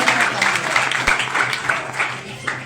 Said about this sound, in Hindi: तो जोरदार तालियां आप लोग बजाइए, अपने अपने लिए जोरदार तालियां बजाइए।